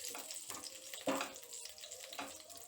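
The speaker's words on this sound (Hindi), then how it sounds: "इसमें 7-8 खलियां लहसुन की डालेंगे और इन्हें भी आधे मिनट तक भून लेंगे।" Seven or eight garlic cloves frying in oil over a very low flame for a soup, giving a soft continuous sizzle with a few louder bursts as a ladle stirs them, close by with no talking.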